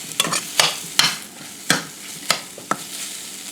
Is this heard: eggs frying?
yes